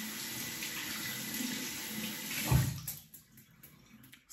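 A bathroom tap runs water onto a synthetic shaving brush, a steady close splashing hiss that surges briefly and then cuts off, leaving a few quiet drips and handling sounds.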